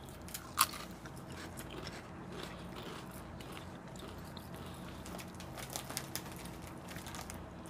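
Close, crisp crunching and chewing of jalapeno-flavored Rap Snacks potato chips, with one sharp bite near the start followed by softer repeated munching.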